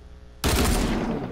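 Sudden loud burst of dual pistol gunfire in a video game playground mode, rapid overlapping shots starting abruptly and continuing as a sustained close fusillade.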